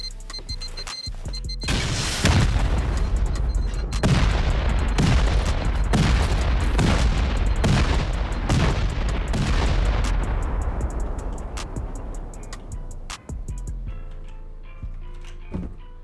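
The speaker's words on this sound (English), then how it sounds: "So we'll blast into this area. We should use up some rockets first." A rapid series of heavy rocket explosions slams into a walled base in a survival video game, with about eight booming blasts in quick succession followed by a long rumbling decay, loud and close, with no talking.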